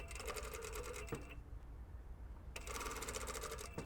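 Sewing machine stitching a long-sleeve shirt placket, running in two fast bursts with a pause between them, close and fairly quiet.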